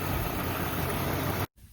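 A 2003 Dodge Ram 2500 with a V10 engine idles in a steady, even, close-up rumble with a faint high whine, then cuts off abruptly near the end.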